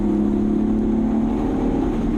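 A BMW Z4 engine holds a steady, droning rev, a strong continuous hum that stays loud and close throughout.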